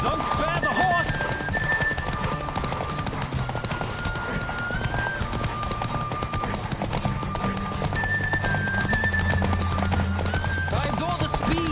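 Horse galloping in The Witcher 3: Wild Hunt, rapid continuous hoofbeats under a constant rush of movement, with a whinny and people talking over the ride.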